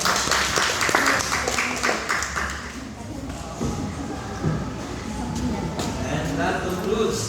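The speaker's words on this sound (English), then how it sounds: "Let's give a round of applause to our judges." An audience claps for the judges at the close of an extemporaneous and spoken poetry competition, a burst of applause that thins and fades into a lower room murmur with thuds and shuffling.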